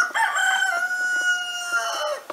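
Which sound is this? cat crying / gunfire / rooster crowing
rooster crowing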